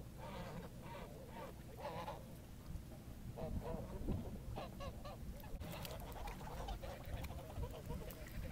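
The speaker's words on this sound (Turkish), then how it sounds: "Kazlar çok bağırışan hayvanlar." A flock of Kars geese honks and cackles continuously over a noisy outdoor background, with calls overlapping and a few louder honks standing out in the middle.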